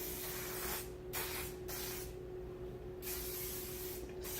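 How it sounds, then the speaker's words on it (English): Garnier Fructis Volume Control extra strong hold hairspray sprayed onto hair in several close hissing bursts of varying length, with a faint steady hum between them. "And I'm gonna spray it with hairspray."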